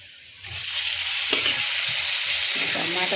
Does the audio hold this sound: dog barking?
no